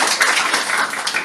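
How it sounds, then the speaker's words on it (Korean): A church congregation applauds during a Korean-language Sunday worship service, a short burst of steady, dense hand clapping filling the room at close range. "하나님께 감사의 박수"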